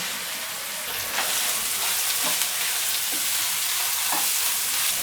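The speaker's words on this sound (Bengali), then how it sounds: "পেঁয়াজের পাতাগুলোকে একটু ভেজে নিলাম।" Spring onion leaves with ginger and garlic frying in a pan for a potato dish, a steady close sizzle with a few faint stirring scrapes and no voices.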